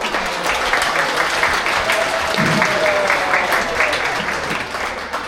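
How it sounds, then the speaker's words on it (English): A crowd of visitors at a wildlife park claps for a sheep shearer after a shorn sheep is shown, steady applause filling the whole stretch with a voice briefly heard underneath. "Let's give him a clap"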